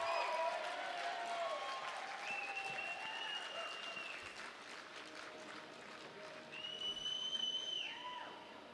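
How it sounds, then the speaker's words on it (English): A velodrome audience at a junior track cycling series applauds the under-15 girls Omnium national champion with sustained, steady clapping that swells again near the end, while whistle-like cheers rise above it. "one more huge round of applause for your under-15 girls Omnium for today"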